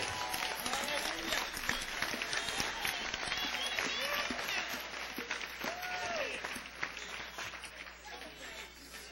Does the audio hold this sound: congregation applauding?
yes